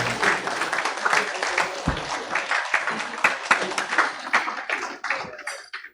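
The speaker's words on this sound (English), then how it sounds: "give a huge round of applause to our guest speaker today" Audience applause for a guest speaker at a meeting on the Philippine economy: a dense, steady wash of many hands clapping for about six seconds, fading out at the end.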